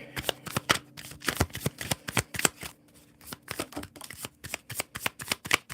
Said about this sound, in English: I want to make sure I have my deck right before I shuffle it some more.